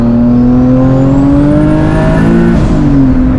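A boosted Nissan 370Z running about 16 pounds of boost accelerates hard, its engine note climbing loud and close before a quick gear change drops the pitch and it pulls again, no voices over it.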